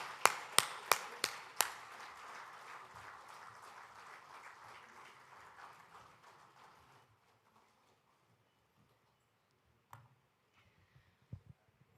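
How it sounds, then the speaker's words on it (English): Applause from an audience at a book launch event rises after a few sharp claps, holding as a moderate wash of clapping before fading out around seven seconds, followed by near silence with a few isolated knocks. "Let us all give him a thundering applaud."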